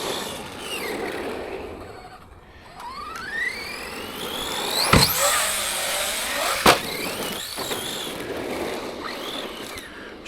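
ARRMA Outcast 4S RC truck running off-road, its electric motor whining in rising and falling sweeps as it accelerates and slows, with sharp knocks and clatters from impacts or landings, moderately close, no voices.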